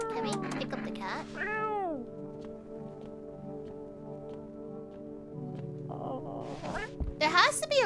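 In the video game No, I'm Not a Human, a cat gives a couple of rising meows early, then more cries near the end over a sustained tonal background, while a person speaks.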